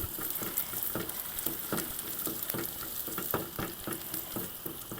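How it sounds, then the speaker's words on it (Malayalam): Shallots fry in coconut oil with a steady, close sizzle, broken by regular rhythmic stirring scrapes, and no talk. "വെളിച്ചെണ്ണയിൽ തന്നെ വറുക്കണം."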